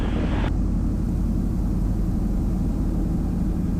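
A floatplane engine drones steadily and loudly during a water landing, a constant close hum with a slight change in tone just after the start.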